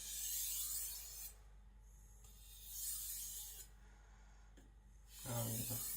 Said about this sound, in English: Doing some stropping motions.